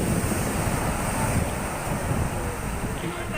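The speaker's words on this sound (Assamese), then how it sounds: "এই যেতিয়া ডাঙৰ ঢৌটো আহে ন, তাত মানে আপোনাক পূৰা উটুৱাই লৈ যাব খোজে আপোনাৰ একদম।" Big ocean waves surge and crash continuously on Puri sea beach in Odisha, a dense, loud roar of surf mixed with wind buffeting the microphone throughout.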